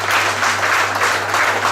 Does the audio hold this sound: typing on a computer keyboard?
no